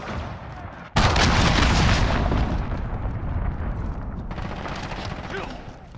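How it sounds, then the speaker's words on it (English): A cruise missile strike in Call of Duty: Modern Warfare hits with a sudden massive explosion, followed by a loud, sustained roaring rumble of blasts and debris that slowly fades over several seconds. "Enemy cruise missile, take cover."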